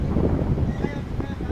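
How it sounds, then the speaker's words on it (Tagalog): Strong wind sweeping across the deck of a passenger ship, loud continuous buffeting and rushing close to the microphone, with faint background murmur. "Kasi malakas na yung hangin dito eh. Sobrang lakas na ng hangin."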